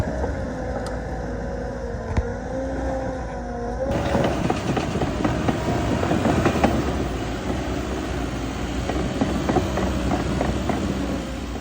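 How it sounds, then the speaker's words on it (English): Steady, loud rumble and rattle of a Develon DD130 dozer at work building a road, with clanking and a continuous drone that grows heavier partway through. "For now, let's put the DD130 to work and get this project started."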